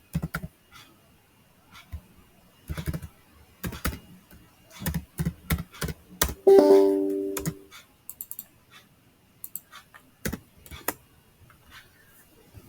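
Someone types on a computer keyboard in irregular bursts of clicks, close and crisp, with short pauses and a brief tonal beep from the computer partway through.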